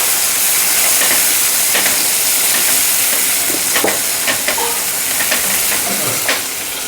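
Tomatoes frying in a small amount of hot oil for chana chaat, a steady broadband sizzle and hiss with scattered sharper pops and spoon-stirring clicks throughout, close and continuous, with no talking.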